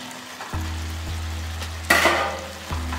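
Salted jackfruit pieces drop into sizzling masala in a pan, setting off a loud burst of frying over a steady low hiss, with a few clatters as they land.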